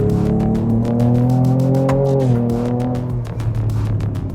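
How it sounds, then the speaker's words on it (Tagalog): A 2025 Ford Ranger Raptor V6 pickup blips its engine to rev-match on a downshift with paddle shifters, a loud, close rising and falling engine drone with quick throttle bursts. "as you're probably hearing, you can even do a bit of rev matching"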